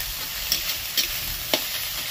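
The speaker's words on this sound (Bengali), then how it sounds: "এবার এটাকে একটু ভেজে নিই।" Eggs frying in a pan for a Bengali egg curry, with a loud steady sizzle and three brief spatula taps as they are turned.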